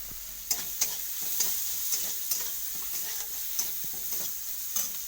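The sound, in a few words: garlic and turmeric frying and being stirred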